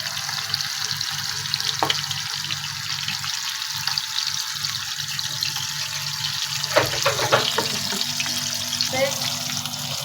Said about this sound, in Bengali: আমার মাছটা দিয়ে দিছি ভাজা হোক